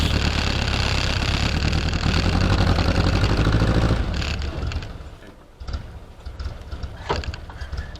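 Close, steady idle of a Jeep M38A1 engine that drops away about halfway through, leaving quieter scattered knocks and rattles.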